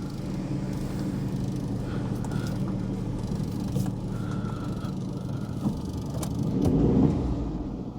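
A car started and left running after months of sitting unused: a steady, low engine rumble at idle, nearby and fairly quiet, swelling briefly near the end.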